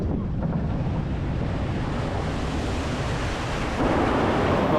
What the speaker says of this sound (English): We're about to splash down.